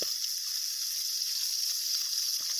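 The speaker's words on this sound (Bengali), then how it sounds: "তেল দিয়ে তার ভিতরে আমি মাছগুলো দিয়ে দিব।" Pabda fish frying in hot oil in a kadai, a steady bright sizzle that stays level and close throughout with faint spatters underneath.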